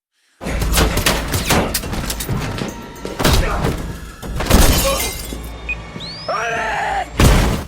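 A loud violent crash of shattering and crunching impacts as an explosion sends a car falling from a parking structure, debris bursts in quick succession, then a short whine and a final heavy smash.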